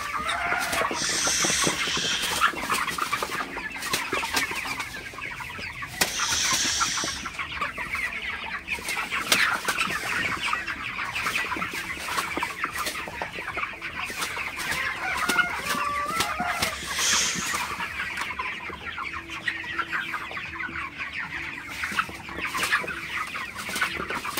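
Broiler chickens in a farm shed at night cluck continuously, with overlapping calls from many birds and an occasional louder squawk or crow, close by and without speech.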